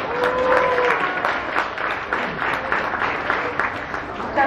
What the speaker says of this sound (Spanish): Un aplauso fuerte para compadre.